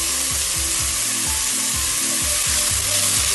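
A garlic-free base frying in oil while being stirred, with a loud, steady sizzle and a repeating scrape of the utensil against the pan in an even rhythm, and no talking.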